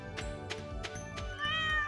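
A cat in Stardew Valley gives a couple of short, tonal meows, close but soft, with other light game sounds and steady background music beneath.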